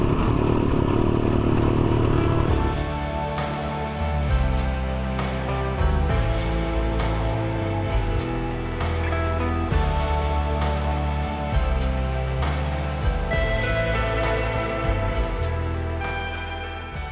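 A 450 rally motorcycle engine accelerates hard and keeps pulling for a long stretch, loud and close, with rising revs and gear changes under a steady roar.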